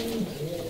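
Low, steady cooing of a racing pigeon in a loft, a continuous soft warble at close range with no talk.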